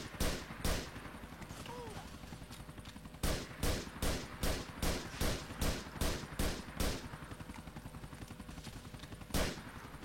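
Gunfire in the video game GTA IV: bursts of sharp shots, a few early, then a rapid rhythmic string of about ten in the middle, and a final shot near the end, with game ambience between them.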